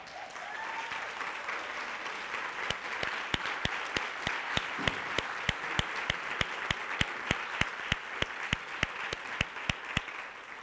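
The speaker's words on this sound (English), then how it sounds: "I would like for us to just stand all over this room and give a round of applause to Velva and the YWCA of the Lower Cape Fear." Room-filling round of applause from a standing audience at a YWCA health summit in a conference room, continuous clapping with one close, sharp clapper sounding steady beats above the crowd.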